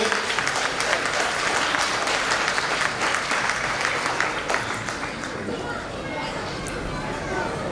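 At a school annual day event, an audience gives teachers strong, sustained applause from many hands, with crowd chatter and voices mixed in and the clapping thinning slightly toward the end.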